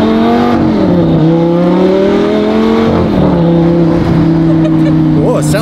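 A Lamborghini fitted with an aftermarket exhaust roars loudly up close as it revs and drives, its pitch rising and dipping between shifts, with people talking over it.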